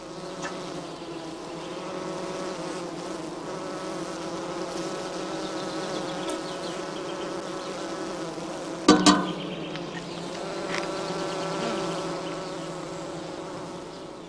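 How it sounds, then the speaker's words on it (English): A dense, steady swarm of honeybees buzzing continuously around skep hives, with a brief sharp knock partway through. "The bees are busy feeding their brood."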